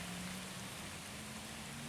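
Steady rain falls outdoors on a wet day, a continuous soft hiss of drops on surfaces with no pauses, even and moderately quiet throughout, with no voices.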